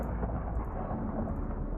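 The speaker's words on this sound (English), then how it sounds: "make some thunder strikes" Thunder in the Minecraft modpack GregTech: New Horizons, a brief deep rumbling roll that stays low and steady throughout.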